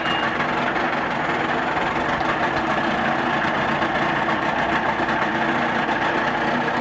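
A manual-start 1983 Evinrude 35hp two-stroke, two-cylinder tiller outboard with a 20-inch shaft idles in neutral, giving a loud, steady, rough drone that runs unbroken throughout with no voices.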